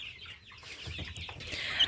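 Naked neck chickens cluck softly and steadily nearby, a short stretch of low murmuring fowl sounds with no talking.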